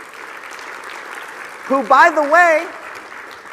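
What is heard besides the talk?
conference audience applauding Ryan Daniel Moran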